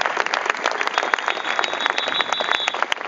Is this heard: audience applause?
yes